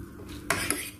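Metal spoon clinking against a bowl of instant noodles, a quiet handling rustle followed by two sharp close clinks and scraping, with no talk.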